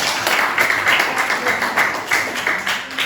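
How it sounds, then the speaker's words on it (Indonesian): A group of schoolchildren clapping in a loose, uneven rhythm, moderately loud, with faint voices mixed in. "Tepuk tangan ya."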